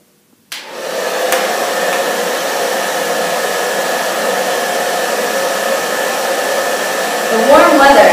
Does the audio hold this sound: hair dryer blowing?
yes